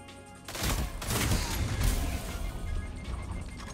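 Sniper rifle fire in a first-person shooter game: a few sharp, heavy cracks and booms ring out close and loud within a dense, noisy gameplay mix, each blast followed by a lingering rumble.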